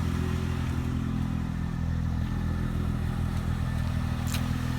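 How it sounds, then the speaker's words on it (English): A 2004 Mercedes SLK 320 with a flood-damaged history runs steadily while warming up, a continuous low engine drone with a faint clattery texture and no talk over it. "Engine sounds fine."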